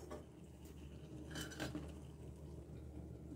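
A lid set onto a pot of bottle gourd and shrimp curry cooking on the stove, giving a light metallic clink and rattle against the rim, faint and close amid quiet kitchen background.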